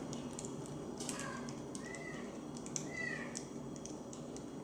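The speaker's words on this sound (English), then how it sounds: "my cat likes to moan a lot." A house cat meows a few times, short rising cries set against a steady background hiss, fairly faint and at a little distance, with a few small clicks in between.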